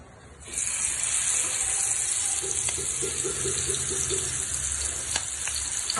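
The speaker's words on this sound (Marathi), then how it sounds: "पाच मिनिटं झाले आपण मॅग्नेट करायला ठेवलं होतं. आता याला फ्राय करून घेऊ." Marinated prawns fry in hot oil, a loud close sizzle that starts abruptly and holds steady with faint pops throughout.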